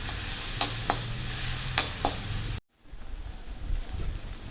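Tomatoes and onions sautéing in a pan for Maggi noodles upma, a constant close sizzle with a few spatula clicks, then a brief silence before softer frying continues.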